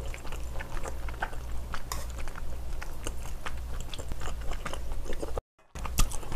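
Close, moist chewing and biting of stir-fried seafood in a mukbang, with crunchy bites repeating at an irregular rhythm over a steady low hum and a brief drop to silence near the end.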